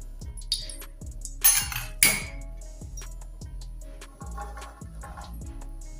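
Fried potatoes scooped out into a pot, a series of close metallic clinks and scrapes from a utensil against cookware at an uneven pace, no talking.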